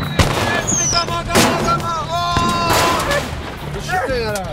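Firework cannons fired between cars in a mock combat, several sharp close bangs and pops with whistling streaks, while excited voices shout over the blasts.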